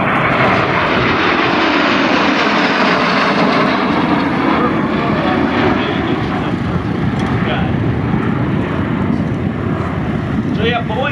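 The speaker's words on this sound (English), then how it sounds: "the MiGs come inbound in a great formation" MiG jet fighters fly in a diamond formation over an air show at EAA, making a loud, continuous engine roar and rushing noise that stays steady throughout. A commentator can be heard talking faintly beneath the jets.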